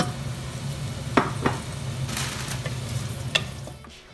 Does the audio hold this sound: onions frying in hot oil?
yes